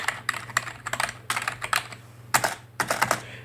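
Close typing on a Dell SK-8135 keyboard, quick bursts of light clacky keystrokes in uneven runs with brief pauses between them.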